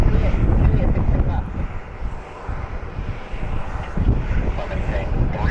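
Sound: Republic Airways E175 jet pushing back at Cleveland Hopkins

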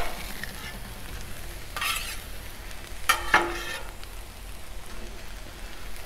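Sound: vegetables sizzling and stirred on a Blackstone griddle

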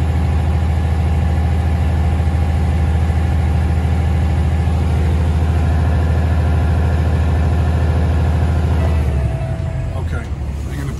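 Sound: Kenworth T660 ISX 500 truck engine taken off idle

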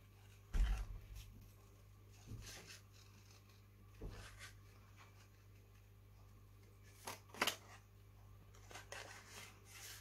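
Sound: cutting paper with scissors

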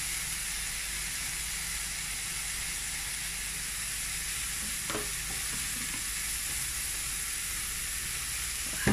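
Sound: garlic frying and stirred in butter or ghee

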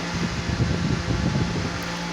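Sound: battery-powered electric fan running at high speed

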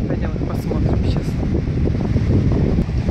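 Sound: strong wind

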